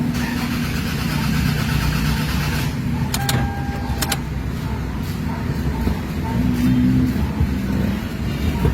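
A Toyota RAV4 engine cranks repeatedly without catching, a steady mid-pitched starter churn running through the whole stretch, close and fairly loud, with a couple of brief electrical clicks partway through.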